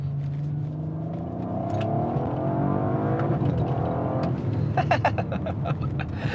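A 2021 Audi RS4 engine in sport mode hums and climbs in pitch as it accelerates, heard from inside the cabin at moderate volume with a few clicks late on.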